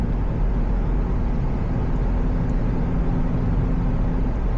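An 11th-gen Honda Civic Si with a downpipe and tune cruises along, its engine a steady low drone blended with road and tire rumble, heard from inside the cabin and fairly loud.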